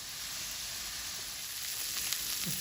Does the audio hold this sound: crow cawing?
no